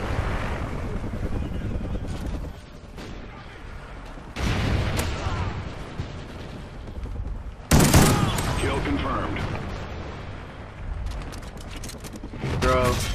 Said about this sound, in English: He's all shooting at me